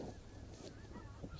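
Canada geese honking as they fly over at daybreak during a hunt, faint and distant calls scattered across a steady outdoor background.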